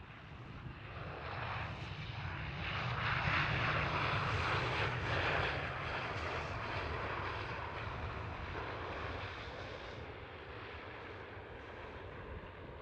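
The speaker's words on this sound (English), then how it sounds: "And then this KLM is number 1. KLM 737." Near Schiphol Amsterdam, a KLM Boeing 737 produces a faint, distant jet roar that swells to a peak and then slowly fades as it passes, with no voices.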